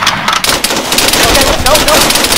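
Rapid rifle gunfire in a video game crackles in dense, loud bursts that run through the whole moment, with players talking over it.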